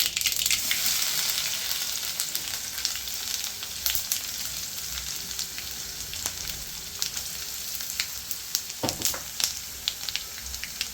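Mustard seeds, garlic, cumin and pepper tempering in hot oil for sambar: a bright continuous sizzle laced with sharp crackles and popping seeds, busiest at first and settling into scattered pops.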